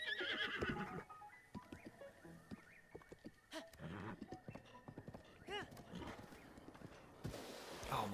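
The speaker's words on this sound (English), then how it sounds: "The horses in this game need to learn how to turn." Horse in Breath of the Wild video game gallops with steady clip-clop hoofbeats and lets out a sharp whinny, under background game sounds and occasional talk.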